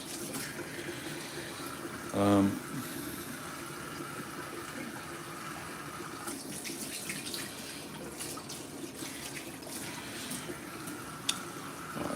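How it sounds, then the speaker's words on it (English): Hands are washed under a running tap in a carpentry workshop, a steady low water hiss over a faint background, with a brief louder splash or bump early on. "Let's wash my hands."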